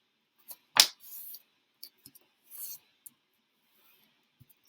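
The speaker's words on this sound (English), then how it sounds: "take your paper, regular blank white paper, and fold it in half" Regular blank white paper is folded in half, giving a crisp crinkle and rustle, then a sharp crease and a few scattered soft rubs and taps, close and otherwise quiet.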